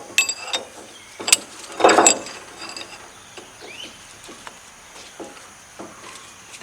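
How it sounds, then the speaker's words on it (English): A bearing is used to hammer out a front wheel seal on a Ford 660 tractor, giving a few sharp metallic knocks and clinks, with one heavier clattering strike, then lighter scattered taps. "I'm trying to drive this seal out using the bearing."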